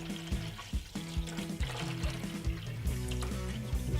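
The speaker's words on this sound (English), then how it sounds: "There's a mark there where you fill your distilled water up to. So just pour that straight in there like that." Distilled water is poured into the reservoir of a vinyl record cleaning machine: a steady, close trickle and splash running continuously, with small gurgles throughout.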